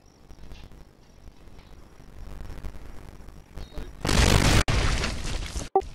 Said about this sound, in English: shell or mortar shell hit close by the level 2 FOB